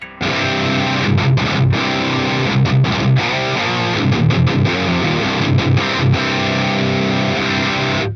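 An electric guitar runs through an HX Stomp's Friedman BE amp model in BE mode with the C45 switch and saturation on, giving a loud, thick, heavily distorted tone. Chords and riffs are played continuously and up close, with no talking.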